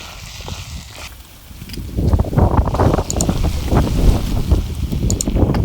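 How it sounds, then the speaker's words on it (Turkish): Strong wind buffeting the microphone in heavy, roaring gusts that build and grow louder partway through, with no voices. "Bayağı bir rüzgar esmeye başladı."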